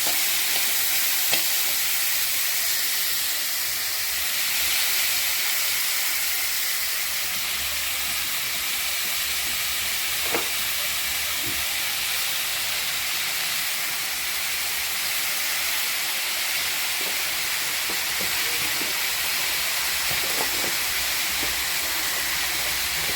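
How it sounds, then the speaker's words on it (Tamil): Garlic, onion and tomato with coriander sautéing in a hot pan for millet brinjal rice, a continuous loud sizzling hiss with occasional faint stirring taps and no talking. "கொத்தமல்லி நம்ம வெங்காயம் தக்காளி வதங்கி வரட்டும்."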